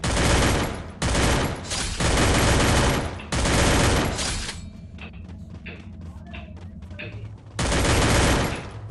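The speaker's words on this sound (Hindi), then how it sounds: "मैं भाई की ये गन उठाता हूँ और सामने पे लग जाता हूँ बंदे पेलने के लिए" Rapid automatic gunfire from a weapon in the battle royale video game Free Fire, long dense bursts broken by short pauses, with sharp clicks and mechanical clatter in a quieter middle stretch before a final loud burst.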